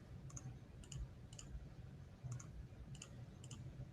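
A computer mouse clicks while construction lines are drawn in CAD software: about six crisp, close double clicks at a steady pace over a low background hum.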